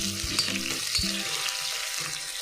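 Cubed onions sauté in a pan for pancit sotanghon, a soft continuous sizzle under a low background hum, with a couple of brief spatula knocks as they are stirred.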